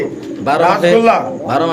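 Gola pigeons coo softly in short rounded bursts while people talk nearby.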